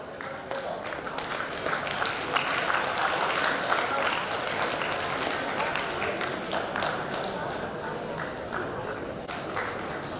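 An audience at a college technology symposium applauds prize winners, a dense sustained round of clapping filling the hall, fairly even in loudness throughout.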